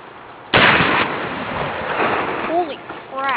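A single huge blast from a .50 BMG Bushmaster rifle fired outdoors, loud and close, followed by a rumbling decay and a few faint vocal noises.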